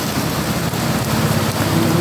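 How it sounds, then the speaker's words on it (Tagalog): Heavy monsoon rain driven by wind pours down in a steady, loud, unbroken roar, with no voices heard over the downpour. "kaya ganito kalakas ang ulan"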